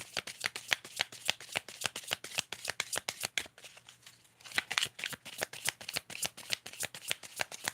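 Tarot cards being shuffled in rapid riffling bursts, a dense run of crisp card slaps with a brief pause midway before the shuffling resumes.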